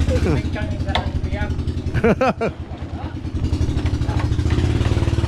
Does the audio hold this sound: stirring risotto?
no